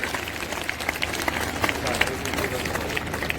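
Audience applause at a public gathering, a steady rattle of many hands clapping with crowd murmur, while a voice speaks over it.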